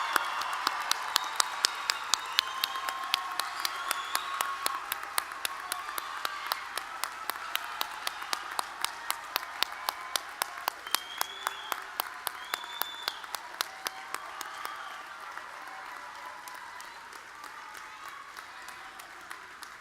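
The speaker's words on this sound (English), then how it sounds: "Now let's give our graduates a huge round of applause." Sustained applause from a commencement audience honoring graduates at a Central Ohio Technical College ceremony, dense clapping with a few sharp individual claps near the front, gradually thinning and fading over about twenty seconds.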